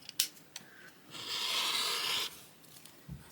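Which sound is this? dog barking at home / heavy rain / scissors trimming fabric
scissors trimming fabric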